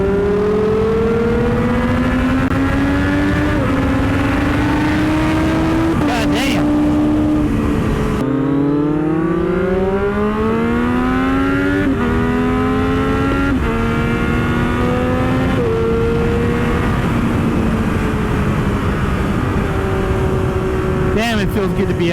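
A Triumph Daytona 765 Moto2 motorcycle engine revs hard and climbs through the gears while riding, loud and close with rising and falling pitch sweeps at each shift, continuous throughout.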